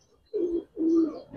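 Giribaz high-flyer pigeons give two short, low coos in quick succession, close and clear with no other sounds around them.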